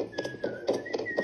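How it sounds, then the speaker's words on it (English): A person whistling a short, wavering melody in a few quick bursts, fairly quiet and close. "I hear a zookeeper whistling in my ear."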